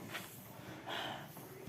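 A child at a school health check-up draws in a deep, hissing breath on command; the inhale is faint and close, standing out briefly against a quiet room.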